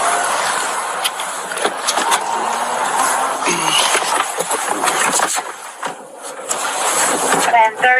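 A Greensboro police car pulling off, its engine running and revving under almost continuous talk and radio chatter.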